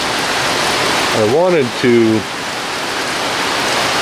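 Steady rain falls on a farm in the Philippines, a broad even hiss of drops filling the whole clip while someone briefly speaks near the middle.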